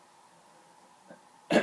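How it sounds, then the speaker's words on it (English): A man clears his throat in a brief raspy burst at the end of a quiet stretch, close to the microphone, with a faint catch just before it. "I'm trying to clear my throat there."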